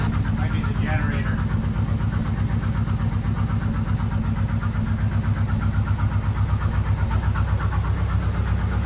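A 1948 Cadillac engine idles steadily with a low, even rumble throughout, close by, with a voice briefly speaking over it; first start after 21 years, no knocking.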